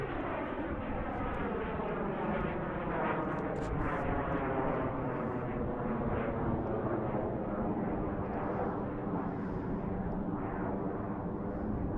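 An airliner in Mariners Moose livery taxiing at Tucson International Airport, a steady loud jet engine whine and roar holding continuously throughout.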